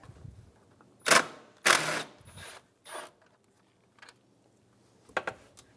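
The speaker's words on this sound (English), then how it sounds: "Remove the 2 10mm bolts for the fan assembly." Ratchet clicking on the two 10mm bolts holding the fan assembly of a 2010-2015 Lexus RX350, heard as a few short, close bursts of metallic ratcheting with quiet gaps between them.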